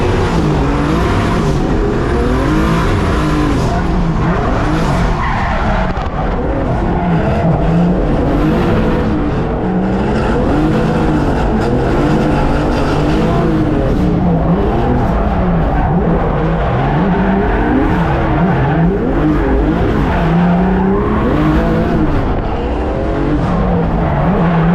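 A competition BMW E36 race car lapping a track, its engine loud and close the whole way, revving up and down through the gears with occasional tire squeal.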